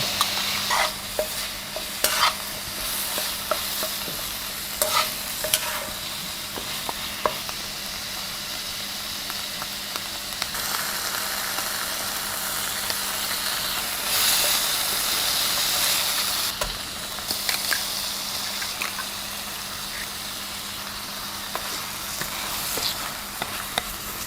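Noodles with chicken being stir-fried in a hot pan give a continuous, close sizzle and hiss, punctuated by frequent metallic scrapes and clacks of a spatula, swelling to a louder steamy burst midway.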